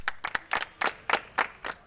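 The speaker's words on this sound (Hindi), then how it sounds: "हुड्डा साहब के लिए जोरदार तालियां।" Sparse clapping from a small audience at a promotional event, about eight distinct, separate claps in an uneven rhythm, moderately close.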